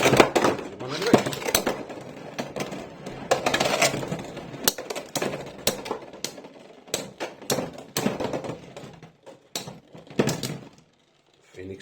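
Beyblade spinning tops, including a Scorpio Spear and a Phoenix, are launched into a stadium and clash, producing bursts of rapid clattering and sharp plastic clicks that fade into scattered taps, with voices talking over some of it.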